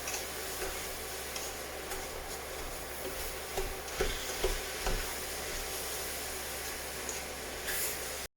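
Blueberries and sugar are stirred in a saucepan, giving soft scraping and light clicking strokes with a few louder knocks against the pan over a steady hiss, close and fairly quiet with no talking.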